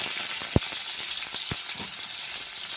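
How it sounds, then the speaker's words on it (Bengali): Mixed leafy greens frying with garlic and green chili in a home kitchen, giving a steady close sizzle with a few sharp pops and a light stirring scrape, and no voices. "এখন শাক ভাজবো আমি। রসুন আর কাঁচা লঙ্কা দিয়ে দিলাম।"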